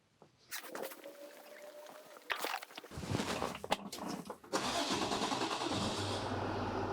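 A starter cranks with a whine and clatter as a truck's 6.7-liter Cummins diesel is jump-started from a lithium power bank, then the engine catches and settles into a loud, steady rumbling idle nearby.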